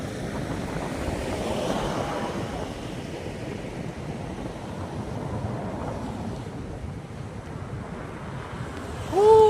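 Strong wind roars steadily into the microphone with a rushing, buffeting noise, over a broad wash like surf, ending in a louder gust, at Pangpang near Santa Bridge, Ilocos Sur, Philippines.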